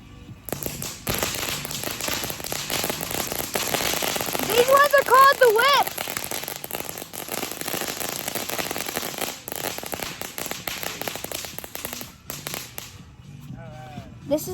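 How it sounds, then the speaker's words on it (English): Whip fireworks set off on the Fourth of July, a long dense crackling burst of rapid sharp snaps with a few whistling squeals, loud and close, with people talking around them. "These ones are called the whip."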